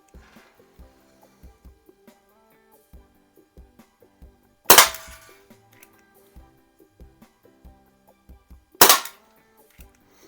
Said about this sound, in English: let's go ahead and take a couple shots with it here.